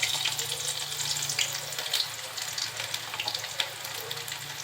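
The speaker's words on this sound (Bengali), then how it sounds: "তেলটা একটু গরম হলে দিয়ে দিব পেঁয়াজ কুচি" Chopped onion sizzles in hot oil with a steady, gentle hiss and scattered crackles, close and fairly soft, with no talk over it.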